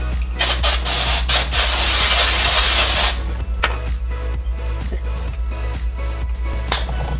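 Hairspray hisses in a long, loud spray burst onto hair set in silicone curlers, followed by softer handling and clicking sounds nearby.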